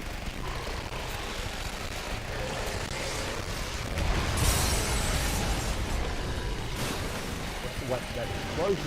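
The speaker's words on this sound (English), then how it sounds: "That explosion will go off" A rumbling game explosion swells midway through a steady bed of noisy ambience, with a second smaller burst near the end.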